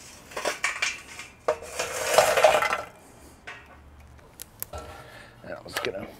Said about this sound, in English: Charcoal white hot. Let's go ahead and dump it.